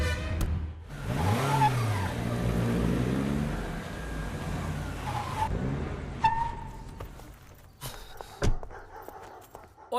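A car engine revs up with a rising, swooping whine, holds for several seconds, then drops away, followed by scattered knocks and clatters, with a brief dog-like yelp mixed in.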